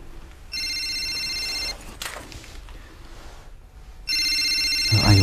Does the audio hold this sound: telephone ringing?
yes